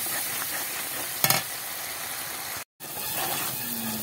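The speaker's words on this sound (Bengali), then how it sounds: "এবার এই যে মশলা কষিয়ে নেওয়া হয়ে গেছে" Spice paste sautéing in a pan for a jackfruit and prawn dish, a dense steady sizzle with brief stirring scrapes and a short clatter, broken by a split-second silence, no talking.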